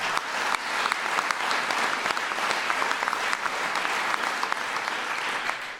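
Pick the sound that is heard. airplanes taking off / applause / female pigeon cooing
applause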